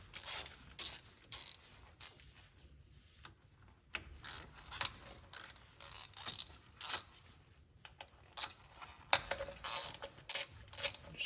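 A hand ratchet cracks loose 8mm bolts on a Yamaha RMAX side-by-side, giving quiet, close clicking bursts in irregular runs with short pauses between them.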